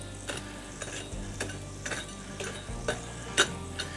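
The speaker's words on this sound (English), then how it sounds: "I'm going to push some of these coals away. I'm just going to thin out this coal bed a little bit." Hot coals pushed around in a grill to thin out the coal bed, giving faint repeated scrapes and crunches at an uneven rhythm over a low background hum.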